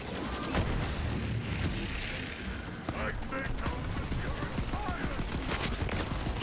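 Gunfire in Borderlands 3 hits the Executioner's shield heart as a dense, muffled clatter of rapid shots amid busy combat noise, with a voice talking over it.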